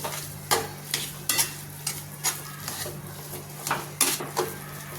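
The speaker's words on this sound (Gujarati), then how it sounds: "અને થોડો ચાટ મસાલો લઈશું અને બધું બરાબર મિક્સ કરી લઈશું" Salt and chaat masala are stirred into a spiced sandwich filling in a kadai, with repeated scraping strokes of a spoon against the pan over a faint sizzle. The strokes come roughly every half second, close and clear, with no talking.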